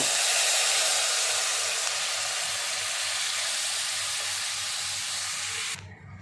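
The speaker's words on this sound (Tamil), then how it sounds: "கொதிச்சிட்டு இருக்குது." A pan of Tamil-style yogurt curry (mor kuzhambu) boils with a steady, loud hiss and sizzle that continues evenly, then drops off abruptly at the end.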